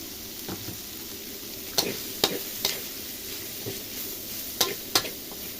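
Pork, shallots and chili stir-fried in a pan over a low continuous sizzle, with scattered sharp scrapes and clacks of the utensil against the pan at irregular intervals, close by.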